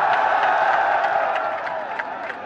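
Crowd applause and cheering at a team welcome reception for the Rangpur Riders cricket squad, steady and dense throughout with scattered whoops, fairly loud and continuous.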